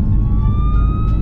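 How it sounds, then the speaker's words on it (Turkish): An ambulance siren approaches from behind on a highway, its rising tone sounding over heavy, close road and engine rumble, with no voices over it. "ambulans geliyor arkadan, istiyorsan emniyet şeridinden çıkalım"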